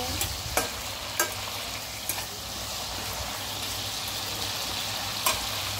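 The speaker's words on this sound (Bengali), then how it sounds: "আমি এখন চিকেনগুলোকে একটু নেড়ে করে দেবো" Chicken curry is stirred in a pan with a spatula. A steady sizzle of frying runs throughout, and a few sharp scraping clicks stand out near and loud, with no talking.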